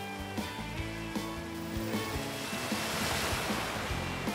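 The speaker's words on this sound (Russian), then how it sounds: "Я создам гигантскую волну." A giant cartoon wave of water rolls and surges in a steady, loud wash with a tonal musical bed underneath, sustained throughout with no talking.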